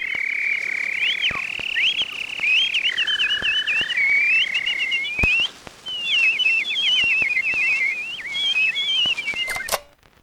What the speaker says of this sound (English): They communicated instructions through a language of chirps and whistles,